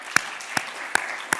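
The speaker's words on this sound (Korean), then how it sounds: "우리 하나님께 큰 영광의 박수 올려드립시다." Church congregation clapping at a Friday worship service, four sharp, evenly spaced claps standing out over a soft room wash.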